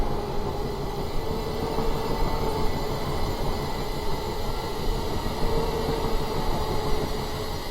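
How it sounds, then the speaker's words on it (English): Trains on the South London Network rattle steadily past in Train Simulator 2016, with a Class 423 4VEP electric unit, a continuous close, loud rumble of wheels and carriages with a faint squeal throughout and no talk. "Trains rattling through there."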